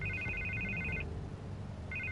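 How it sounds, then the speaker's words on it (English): A telephone rings in a Batman video game, a rapid electronic trill sounding for about a second, pausing, then starting again over a low background hum. "I can't get the phone to stop ringing"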